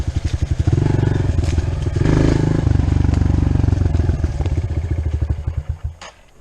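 Dirt bike engine riding on trails, close and loud with a fast pulsing exhaust beat that rises and holds before fading away near the end.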